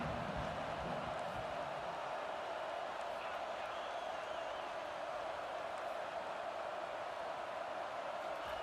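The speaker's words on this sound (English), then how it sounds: "Decibels rising as the crowd gets behind this defense on 3rd down." Stadium crowd in an American football video game roaring steadily behind the defense on 3rd down, a constant dense wash of cheering with faint claps and commentary voices over it.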